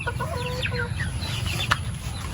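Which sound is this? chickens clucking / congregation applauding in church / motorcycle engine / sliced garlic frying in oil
chickens clucking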